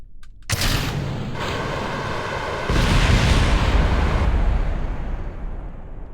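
Rocket exploding in the video game Kerbal Space Program: a sudden loud blast that rises into a sustained, roaring rumble with crackling debris, slowly fading over several seconds.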